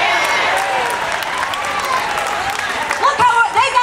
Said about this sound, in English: Can we give Craig some applause?